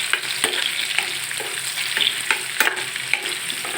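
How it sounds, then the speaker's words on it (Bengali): Chopped onion, garlic and dried chili fry in oil, giving a loud close crackling sizzle with sharp stirring scrapes every half second or so, and no talk. "পেঁয়াজ রসুন ও শুকনো মরিচটাকে ভালো করে ভাজা ভাজা করে"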